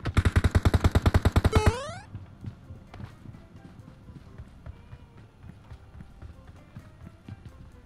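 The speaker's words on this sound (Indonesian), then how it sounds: "teman gue nembak pakai AK dari jauh" An AK rifle in PUBG Mobile fires a rapid burst of about a dozen shots, then gives way to quieter distant gunfire, footsteps and game ambience.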